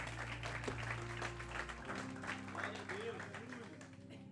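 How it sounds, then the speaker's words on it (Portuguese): Church congregation applauding, a sustained patter of many hands clapping beneath a low droning hum and muffled voices, moderately distant. "Aplauda o Senhor em nome de Jesus"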